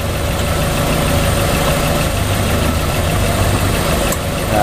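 Close up at idle, a Nissan X-Trail T30 engine runs loud and steady while a light, repeated clattering rattle from the tensioner and alternator pulley area ticks along beneath the hum.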